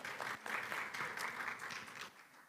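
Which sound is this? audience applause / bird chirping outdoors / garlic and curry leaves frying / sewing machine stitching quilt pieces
audience applause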